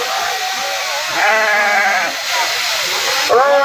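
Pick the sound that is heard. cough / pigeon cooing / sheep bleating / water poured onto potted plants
sheep bleating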